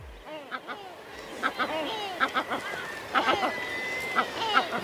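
Gulls on the Saltee Islands cry noisily near a chick's nest, with repeated harsh calls from several birds at moderate distance, overlapping and rising in intensity across the stretch.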